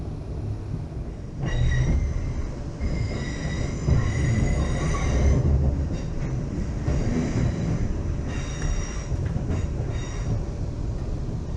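A train rumbles past close by on the line near Northampton, wheels squealing in high metallic tones over a steady low roar, with faint clickety-clack; no voices.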